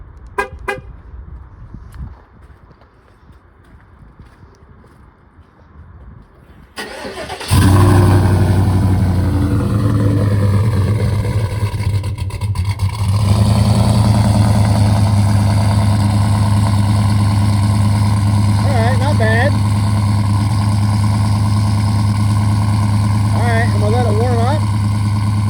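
A 2019 Chevrolet Silverado truck cranks in 18-degree cold, its engine catching abruptly after a quiet stretch and settling into a loud, steady, close idle rumble, with brief voices heard.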